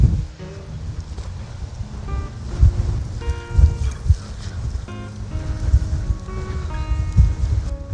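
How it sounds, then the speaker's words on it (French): Strong wind buffets the microphone in heavy low rumbling gusts, with faint scattered tones and clatter underneath, loud and continuous throughout. "Mais on est en plein vent."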